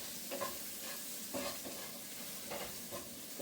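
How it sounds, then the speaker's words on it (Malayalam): Spices including salt, chili powder and plenty of coriander powder sizzle in a hot pan for an okra curry while a spoon stirs them, giving about four rhythmic scraping strokes over a steady close frying hiss, with no voices. "ഇത്രയും സാധനങ്ങൾ ഇട്ടിട്ട് ഇളക്കുവാണ്."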